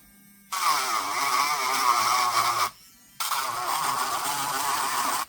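A small power tool grinds down metal on the frame of a Huawei MediaPad T3 8.0 tablet, a loud, close, high whine in two bursts split by a short pause.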